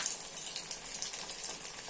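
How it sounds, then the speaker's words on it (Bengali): Biscuit-crumb coated pieces frying in oil in a wok, a steady close hiss and crackle of sizzling that runs continuously, with a light stir or utensil scrape partway through. "একটু লাল করে ভাজতে হবে এটাকে।"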